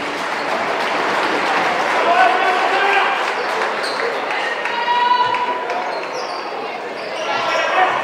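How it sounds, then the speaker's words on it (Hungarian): Applause and cheering from the crowd at a EuroCup Women basketball game between TARR KSC Szekszard and BDS Dinamo Sassari, a steady loud roar running throughout, with an announcer talking over it and ball bounces mixed in. "Nagy tapsot Jacinta Marrónak"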